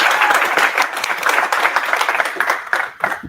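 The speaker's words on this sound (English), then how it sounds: "All right, round of applause," Applause and cheering from an audience at a hackathon live demo, a dense steady clatter of many hands that runs throughout, fading slightly near the end.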